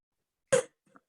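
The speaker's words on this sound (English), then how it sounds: "coughing a bit" A single sharp cough from a man, close and alone, followed by a faint short breath or throat sound.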